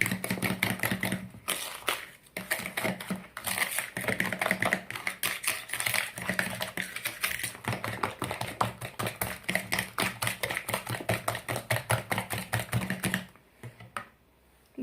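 Sugar, salt and dry ingredients for a gluten-free, flourless dry cookie dough being stirred together in a bowl, a rapid, steady run of close scraping and clicking strokes that stops abruptly near the end.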